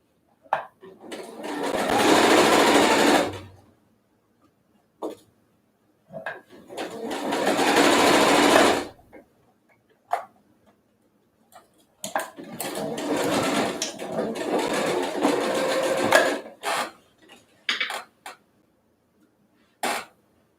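Sewing machine stitching a surgical mask and backstitching to lock the seam, running in several loud bursts of a few seconds each, separated by short pauses with small clicks and handling noises.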